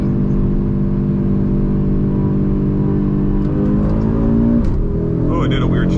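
An Audi RS3 and a BMW M340i xDrive accelerate side by side in a roll race from about 50, with steady, loud engine drone that shifts pitch partway through as a gear changes, under people talking.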